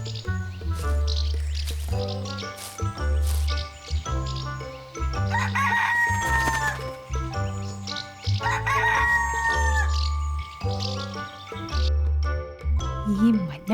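A rooster crows over a bouncy children's music track, its calls rising above the steady beat and melody.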